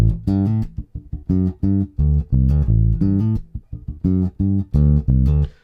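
A funk bass line on bass guitar: punchy, staccato low notes in a syncopated groove, played alone, loud and clear.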